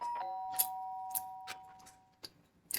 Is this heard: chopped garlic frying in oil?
no